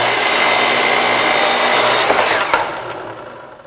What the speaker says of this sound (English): With the slide arm saw you'll get a nice straight cut.